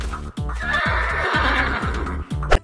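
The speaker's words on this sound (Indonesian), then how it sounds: "Di sini juga ada seekor kuda teman-teman." A horse in the game Jurassic World Evolution 2 neighs loudly in a long, close whinny over a steady rhythmic pounding, followed by a short sharp snort near the end.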